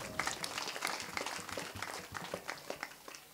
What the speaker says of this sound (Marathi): बाबासाठी जोरदार टाळ्या वाजवा.